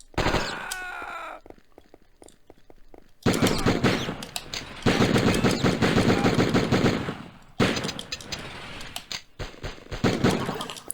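Gunfire in the Die Hard Trilogy video game: long loud stretches of rapid automatic fire, broken by brief pauses and scattered single shots, close and dominant.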